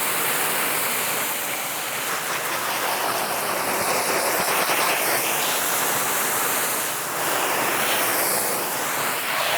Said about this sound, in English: I'm just rinsing off the any excess that's there